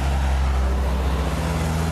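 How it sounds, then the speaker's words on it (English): Traffic flows along a road outside Mystic, Connecticut, a steady low rumble of engines and tires heard from inside a vehicle, loud and unbroken without distinct individual passes. "A lot of traffic on this road today."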